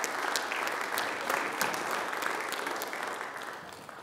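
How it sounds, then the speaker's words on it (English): A church congregation at a Lutheran service claps together in a sustained round of applause, dense and fairly close, tapering slightly toward the end with no talking over it. "Let's give a round of applause to all those hands"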